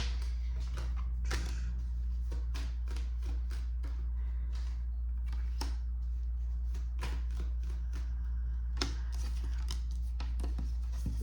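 Soft, irregular riffling and slapping of tarot cards being shuffled by hand, quick little flicks over a low steady hum, with no talking.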